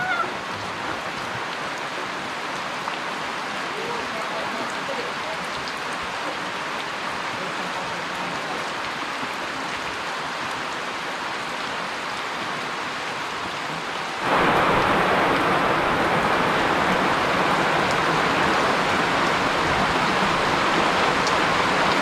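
Steady rain falls in French Guiana, a continuous hiss of drops on surfaces that grows suddenly heavier and louder partway through, with no speech.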